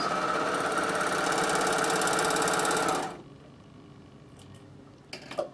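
A Bernina sewing machine stitches scarf fabric in a steady, fast mechanical whir for about three seconds, then stops, leaving quiet room tone with a couple of faint clicks and handling sounds near the end.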